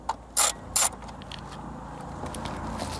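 Two short, sharp ratcheting bursts from a tool loosening a screw on a BMW E82 tail light, close and crisp, followed by faint clicks and quiet workshop background.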